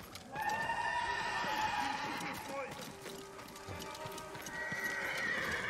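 In the video game Ghost of Tsushima, horse hooves clip-clop steadily while a horse whinnies loudly over the top, with a second neigh near the end, all set against a rushing, busy background.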